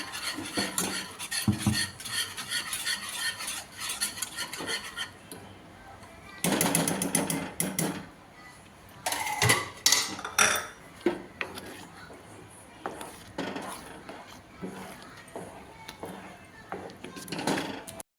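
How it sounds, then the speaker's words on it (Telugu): Dragon fruit halwa being stirred with ghee in a pan, a busy run of scraping and clinking utensil strokes against metal, loud and close, with brief bursts of sharper clatter and no talk. "నెయ్యి వేసుకుంటున్నాము బాగా దగ్గరికి వచ్చేదాకా దాన్ని కలుపుతూ ఉండాలి"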